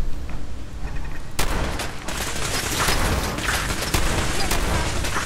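Enemy gunfire in Fallout 4 erupts as a dense, sustained fusillade of overlapping shots and booms, loud and close, with a sharp burst around the midpoint and near-constant crackling after it.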